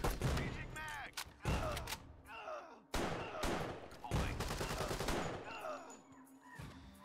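Rapid bursts of gunfire and shotgun blasts in the tactical video game Door Kickers 2, loud and close, coming in clustered volleys with short gaps between them.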